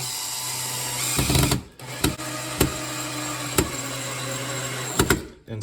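A power drill drives a Kreg pocket hole screw into wood, with a loud whirring burst that stops, then several short trigger pulses as the screw is snugged, close and alone without talk.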